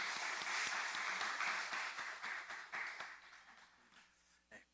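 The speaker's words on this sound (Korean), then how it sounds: "우리 여전도회를 위해서 축복하고 격려하는 박수 한 번 더 합니다." A church congregation applauding during an early-morning service, a sustained patter of many hands clapping that thins out and fades, faint in the room.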